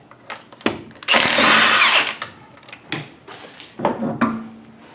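A power tool, likely an impact wrench, whirs in one sustained burst of about a second while the driver's side wheel comes off a third-generation Camaro or Firebird, with scattered clanks and handling knocks of tools and parts around it.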